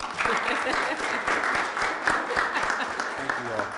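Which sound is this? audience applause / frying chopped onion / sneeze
audience applause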